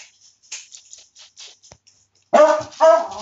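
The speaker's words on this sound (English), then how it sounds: "Sorry about the damn dogs" Dogs bark during a BTU gameplay session, two loud close barks near the end after a stretch of quieter rustling and clicks.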